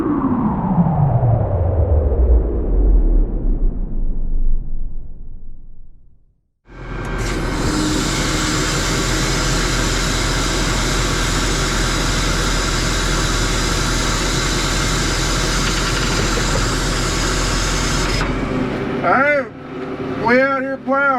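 A tractor engine plows a farm field beside a cell phone tower, its steady loud drone and rumble running continuously after a brief silent break, with a fading sweep before it and clattering at the end.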